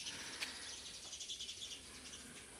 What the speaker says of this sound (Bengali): চড়ুই পাখির ডাক শোনা যায়